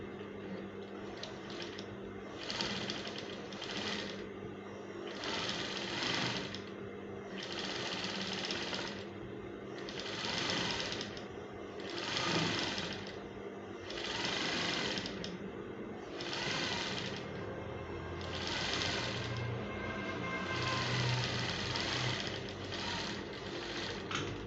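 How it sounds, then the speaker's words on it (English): Sewing machine top stitching a fila cap, running in steady bursts of whirring stitches with short pauses between, close and fairly quiet, no talk. "I'm going to top stitch."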